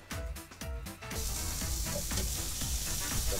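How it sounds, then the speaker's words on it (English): Sliced courgettes sizzle and spit in a hot frying pan at a campsite, a loud, steady frying hiss with crackling that rises after a brief pause and then carries on continuously. "Ooh, listen to that sizzle."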